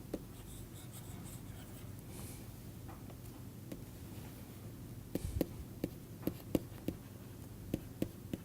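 Pen or chalk scratches steadily while equations are written out, with faint continuous scraping punctuated by sharper taps and strokes toward the end, quiet and close with no talking.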